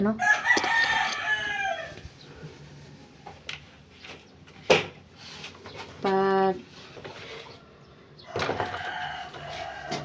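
A rooster crows loudly nearby amid scattered clucks and rustling, with a person talking intermittently in the background.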